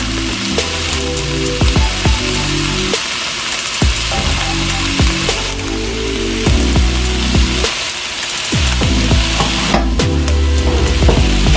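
Summer sausage fries in a pan over medium-high heat, giving a loud, continuous sizzle broken by repeated scraping and clatter from a utensil stirring and turning the slices.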